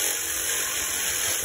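A power drill bores steadily into concrete while a garden bench is being made. The whine is loud, close and continuous, with no pauses.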